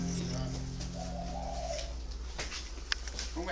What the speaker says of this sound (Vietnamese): Đấy là 15 con chim cu cườm, cu ta.